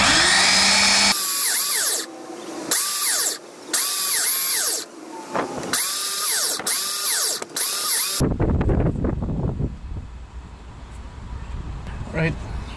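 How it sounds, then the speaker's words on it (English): A belt sander grinds against resin in a run of loud, revving motor bursts that rise and dip repeatedly, then winds down into a fading whir with faint clatter. "we've used the belt sander, two of them, this belt sander here as well."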